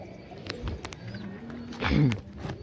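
Pigeons in a backyard pigeon house coo softly nearby, a low throaty call swelling toward the end, with scattered short flaps and clicks from the birds moving about.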